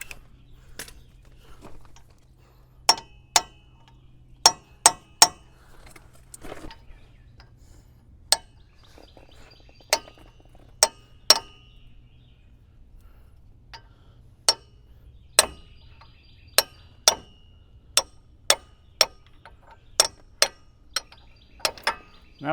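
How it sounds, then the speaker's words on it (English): Sharp metallic taps from a hammer striking a socket to knock out a CV axle on a Chevrolet 2500HD, coming in scattered single hits and quick pairs across a quiet garage. "I'm actually just going to try to use my socket and softly tap it with the hammer."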